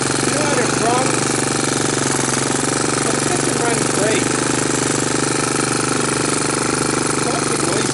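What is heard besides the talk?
Honda TRX200SX ATV engine running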